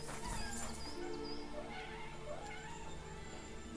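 Several cats meowing in the video game Kingdom Come Deliverance II, a few faint high cries over a dense, low background ambience, fairly quiet and distant.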